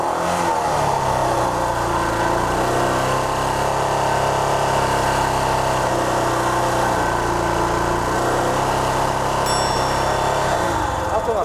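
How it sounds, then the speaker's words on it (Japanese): A 24-year-old Yamaha SR400 single-cylinder motorcycle engine, up for a roadworthiness inspection, revved continuously and loudly up close, holding a steady throaty drone across the whole stretch. "ちょっと吹かしてみよう。"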